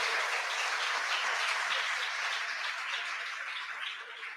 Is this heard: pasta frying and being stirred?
no